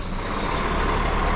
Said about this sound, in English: so I'm reversing now